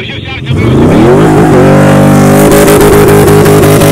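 A car engine revs hard while driving off-road in sand, loud and close, its pitch climbing in a rising whine and then holding at a strained, roaring drone.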